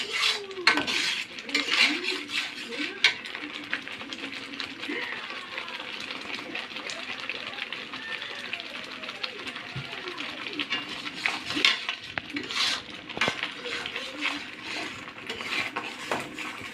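Spice masala sautés in oil in a pan for a shing fish dish, with a busy hiss and repeated scraping and clattering of a utensil against the pan.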